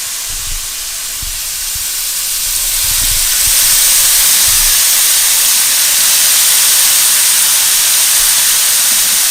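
Vegetables fry in extra virgin olive oil in a pan, giving a steady, loud, broad hiss that builds slightly and then holds, with faint clinks and stirring beneath it.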